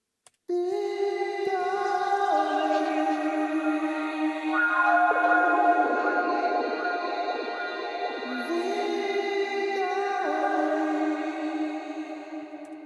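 A sung vocal line with lush reverb and echoing delay trails, sustained notes blurring into a spacious wash, no other instruments evident.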